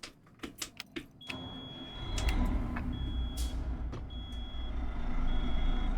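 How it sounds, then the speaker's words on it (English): Driving in American Truck Simulator with a modelled truck engine: a few quick clicks, then a thin sustained electronic beep tone over a rising low engine rumble that continues to the end, with no talking. "gotta wait for a beep to go by. It's just one beep, by the way. That long one."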